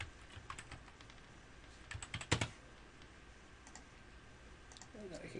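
Keys clatter on a computer keyboard while a heading is entered into a web page layout in Dreamweaver, with quick bursts of close clicks, a denser flurry around the middle and quieter pauses between.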